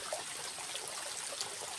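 A steady, faint trickle of flowing water, an even broadband wash with small splashy flecks and no voices, continuous through the short stretch.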